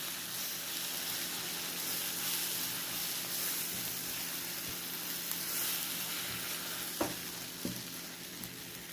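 Bread pieces are stirred into tomato masala frying in a pan, giving a constant soft sizzle with a couple of brief knocks from the spoon near the end, close and fairly quiet.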